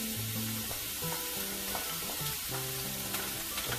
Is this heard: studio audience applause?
no